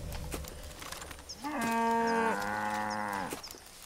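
A cow in Far Cry 5 moos once, long and loud and close, over a low game background hum, after a short lead-in of quiet ambience.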